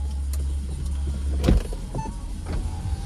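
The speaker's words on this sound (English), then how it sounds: "Really fast, slick operation on these Audi convertible roofs." Electric folding roof on a 2014 Audi A3 2.0 TDI Sport cabriolet opening, a steady motor whir with a louder mechanical clunk midway and lighter clicks as the mechanism moves, close by with no talk.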